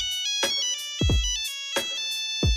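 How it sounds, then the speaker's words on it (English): A Nokia mobile phone ringtone plays its bright, synthetic melody of short clear notes in a repeating phrase, loud and close, with no speech. "Even today, I remember that first ringtone very fondly."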